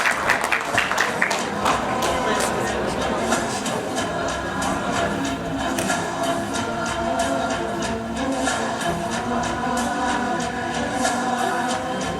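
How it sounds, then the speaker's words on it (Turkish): Sustained, loud applause from an indoor audience at a certificate ceremony for a sports academy preparation course, with dense steady clapping filling the room and a few voices underneath. "büyük alkış istiyorum"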